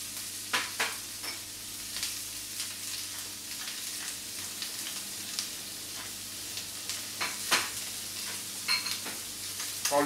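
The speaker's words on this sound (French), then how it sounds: "Je les dispose dans la poêle et surtout, lorsque je fais des cèpes, je ne remue pas avant coloration." Cep mushrooms fry in a pan with a steady, moderate sizzle, while intermittent clicks and taps of the pan or utensil punctuate the crackle.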